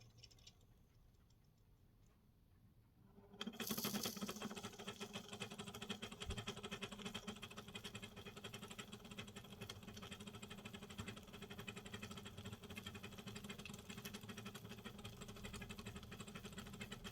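A 00 gauge model colliery locomotive starts running on a layout after a few quiet seconds. It then keeps up a steady, faint mechanical ticking and whirring hum from close by.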